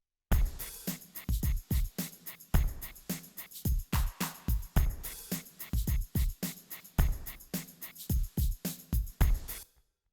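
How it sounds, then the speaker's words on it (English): A cabasa sample plays in a steady drum pattern, crisp scratchy hits alternating with low kick thumps in a repeating groove. "now I'm gonna show you how this Cabasa sound sounds in the drum rhythm"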